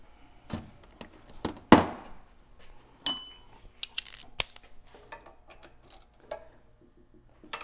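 A ratchet snugs bolts on a Toyota 1FZ-FE engine head in an 80 Series, giving scattered close metallic clicks and sharp knocks at irregular intervals with quiet gaps between them.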